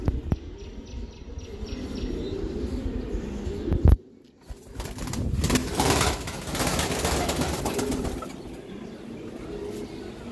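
A pair of old-breed high-flying giribaz pigeons coo nearby in soft, intermittent calls, broken by a sudden thump and a burst of wing flapping midway, then settling back to low cooing and rustling.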